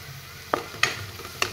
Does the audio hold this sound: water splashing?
no